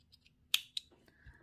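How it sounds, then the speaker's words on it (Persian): Scissors snip off excess thread while making a beaded pendant, with two sharp close metallic cuts in quick succession in an otherwise quiet setting. "میام اضافه نخم و قیچی میکنم"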